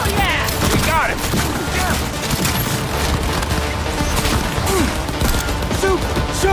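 Gunfire in the Cyberpunk 2077 video game, rapid bursts of shots and crashing impacts amid chaotic combat noise, with voices talking over the fighting.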